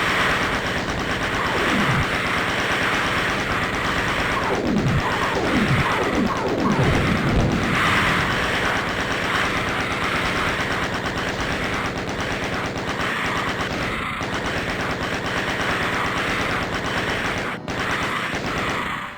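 Sustained rapid chain gun fire in DOOM Zero on PS5, loud and continuous for the whole stretch, with dense mechanical bursts and descending whooshes from enemy projectiles and explosions early on, no talk.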